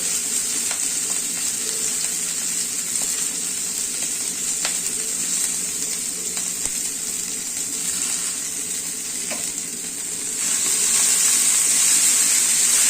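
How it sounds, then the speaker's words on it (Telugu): Ponnaganti greens sizzle steadily in a pan, a continuous bright hiss with occasional faint clicks and stirring taps, growing slightly louder near the end. "ఇప్పుడు పొన్నగంటి కూర వేసేసి వేపుకుందాం"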